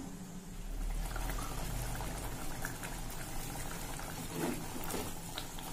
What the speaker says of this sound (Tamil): இது நல்லா கொதிக்கட்டும். சுண்டைக்காய் எல்லாம் வெந்து வரட்டும்.